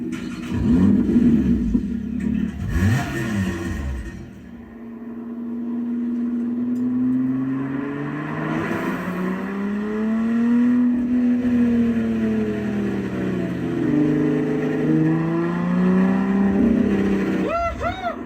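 Lotus Evora 400 engine revving and pulling away, a loud sustained roar with rising and falling pitch as it accelerates, close by throughout.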